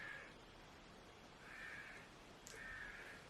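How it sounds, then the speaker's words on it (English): Crows caw several times at a distance, each call spaced apart, over a faint steady background hiss. "The birds are so loud."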